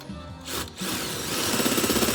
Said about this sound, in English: so I drill these two large ones out